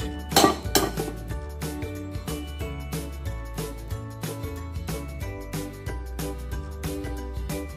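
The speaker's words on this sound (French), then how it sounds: "On va commencer par mélanger ensemble l'œuf, l'eau, le sel et le vinaigre." Egg, water, salt and vinegar are whisked together in a bowl for pastry dough, a steady rhythmic clinking of utensil against the bowl, close and repeated at an even pace, with a louder clatter at the start.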